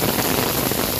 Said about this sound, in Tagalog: sinabutan na tayo ng ulan habang nag-iikot tayo dito sa Liwasang Bonifacio